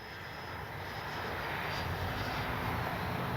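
An FMS Su-27 twin 70mm electric ducted-fan RC jet making a low gear-down pass, heard as a steady, rising turbine-like whine and roar that swells as it approaches.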